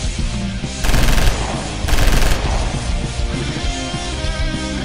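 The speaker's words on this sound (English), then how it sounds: "Gunfire, I'm going in." Two loud bursts of rapid automatic gunfire, each about half a second long, over a steady background of rumbling ambience in a Marvel/DC stop-motion animation.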